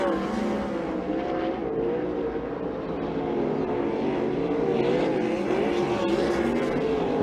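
ASCS Frontier Region sprint cars race on the Electric City Speedway track, a loud, continuous roar of high-revving engines that swells and shifts as the cars circle the oval.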